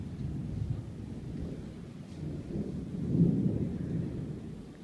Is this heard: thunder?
yes